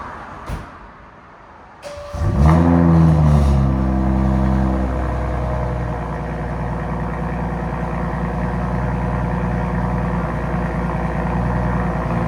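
Straight-piped 2019 BMW X7 with a 3.0L TwinPower inline-six starts up with a loud, rising rev, then settles into a steady, close, deep burbling idle that holds to the end.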